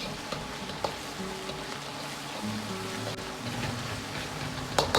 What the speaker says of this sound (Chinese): 接着放入适量的郫县豆瓣酱，炒出颜色，